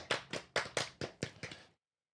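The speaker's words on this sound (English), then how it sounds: "let's get a round of applause for Drew Smoothy" A few hands clap in about seven sharp, separate beats for Drew Smoothy, close and fairly quiet, stopping after under two seconds with no voices.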